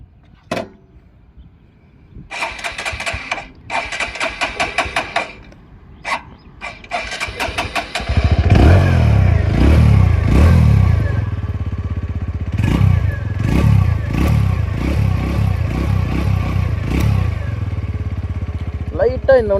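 A TVS Radeon 110 motorcycle, 2026 model, is started on its electric starter: short cranking bursts, then the engine catches and idles loudly with a steady throb, while someone talks over it.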